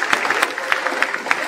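Brief, uneven clapping from an audience at a party members' day, individual claps distinct in a short burst.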